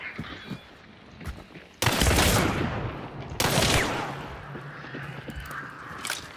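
A Dolch gun fires in a video game, two loud gunshot bursts with rolling echo a second and a half apart, plus fainter shots and clicks around them.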